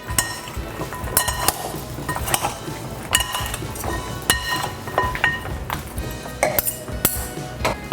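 Utensils toss a Tuscan-style panzanella salad of bread dressed with red wine vinegar, salt and pepper in a bowl, giving repeated close clinks and clatters against the bowl in an uneven rhythm, with no talking.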